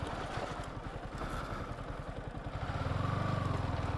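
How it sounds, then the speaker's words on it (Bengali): A motorcycle on a rural path chugs in a fast steady pulse close by, its engine note rising and growing louder toward the end as another bike comes near. "আরেকটা বাইক আসতেছে, ভয় লাগতেছে এখন।"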